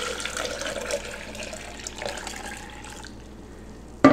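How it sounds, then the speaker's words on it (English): Warm distilled water pours steadily into a blender jar for a red cabbage pH indicator, a continuous close splashing that thins out near the end before a sharp clunk. "add 4 cups of warm distilled water to our blender"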